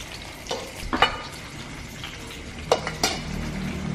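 Food frying in a pan with a little oil, a constant soft sizzle, broken by a few clinks of a utensil against the pan.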